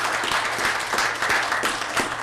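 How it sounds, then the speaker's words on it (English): Audience clapping at a city council meeting honoring a staff member's service, a brief, steady patter of moderate applause from a modest crowd, fairly close. "So I'd like everybody to give Scott McBride a round of applause for his service"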